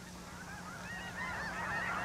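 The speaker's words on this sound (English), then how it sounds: "Every dawn of every spring, the sky above Tule Lake is made joyous by the sight of snow geese flying north." A flock of snow geese flying north at dawn in spring over Tule Lake on the California-Oregon border, many overlapping honks and calls rising over steady outdoor noise, moderately distant.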